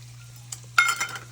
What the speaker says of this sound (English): we're gonna give it just a quick stir